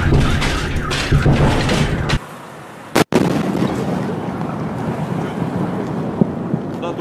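A delayed sonic boom from the Chelyabinsk meteor explosion over a Russian city: a single sharp, loud crack that cuts through steady outdoor rumble and noise, with no talk.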